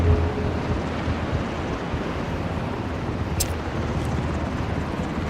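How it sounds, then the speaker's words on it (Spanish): A helicopter gives a steady, dense whooshing roar that stays loud and unbroken throughout, with no talk over it. "Súbete al helicóptero, Tiza."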